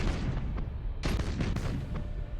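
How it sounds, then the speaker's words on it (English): A spread of torpedoes fires in the Battlefleet Gothic Armada space combat game: heavy, rumbling booms, with fresh sharp blasts landing around the middle of the passage over a continuous low roar. "Let's fire a spread of torpedoes."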